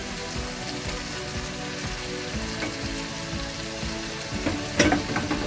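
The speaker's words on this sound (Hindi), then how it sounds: "तो फिर इसमें हम चिकन शामिल करते हैं जो कि हमने स्लाइसिस में काट के रखा हुआ है" Sliced chicken frying in a hot pan gives a dense, steady sizzle with faint scraping of stirring, close and continuous.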